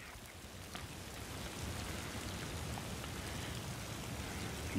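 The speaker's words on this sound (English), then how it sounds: "Oh, it's raining again." Steady heavy rain hisses and patters close by, a dense continuous wash of drops with no voices.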